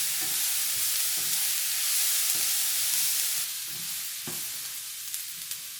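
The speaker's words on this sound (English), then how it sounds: "now we're going to add 2 cups of chopped up white onions. Brown up the white onions." Chopped white onions browning in oil in a pan, a continuous close hiss and sizzle with a few soft stirring knocks scattered through it.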